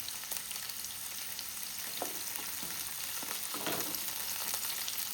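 Dates are stirred in a pan while cooking a dates chammanthi, a soft steady sizzle with a few scraping stirs of the spoon, fairly faint and with no voices.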